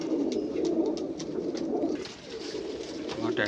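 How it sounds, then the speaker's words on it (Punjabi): Devbandi pearl pigeons in a mixed flock of fancy pigeons giving steady, overlapping low coos close up, briefly dipping before resuming, with no talk over them. "ਮੋਤੀਆਂ ਦਾ ਦੇਵਬੰਦੀ ਕਬੂਤਰ"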